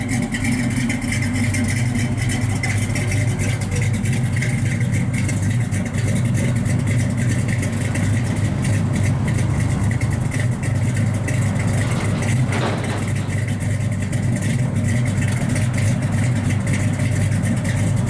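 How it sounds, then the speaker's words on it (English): A 1965 Chevrolet Chevelle Malibu SS with a big-block V8 and four-speed idles steadily and loudly close by, a deep continuous exhaust rumble without pauses. "Sounds real good out the exhaust."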